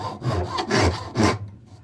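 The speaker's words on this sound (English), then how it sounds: "That noise is the file hitting the hard steel and it's not cutting in." A hand file scrapes against hard steel on a workpiece held in a vise, clearing spilled adhesive. It makes three loud, close rasping strokes that skid without cutting in, with no talk.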